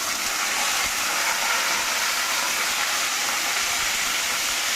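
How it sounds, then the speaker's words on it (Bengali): Soaked rice and red lentils hit hot oil with fried garlic and onion, setting off a loud, dense, continuous sizzle that holds steady throughout with no talking. "এর মধ্যে দিয়ে দেবো আমি চাল ডালটা,"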